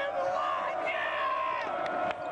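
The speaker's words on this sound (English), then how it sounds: "You can hear the booing in the background." A crowd in a gym during a 1987 high school basketball game voicing a sustained, rowdy roar of booing and yelling, fairly steady and moderately loud.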